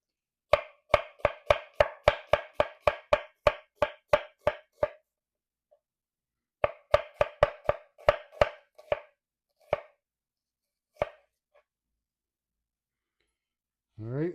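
A sharp knife thinly slicing an onion on a cutting board: a fast, even run of crisp chops, a pause, then a second burst slowing into a few spaced strokes, close and clear with no talking.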